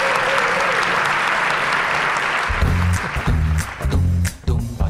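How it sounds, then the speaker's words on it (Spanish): A radio studio audience applauds a guest storyteller with loud, dense clapping that gives way partway through to music and voices talking over the fading claps. "pido por favor un aplauso gigantesco a Alberto Espinosa"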